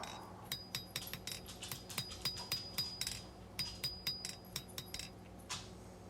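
A hammer strikes a small steel knife blade on the point of an anvil in a steady run of light, ringing metallic taps, fairly quiet and with no talking.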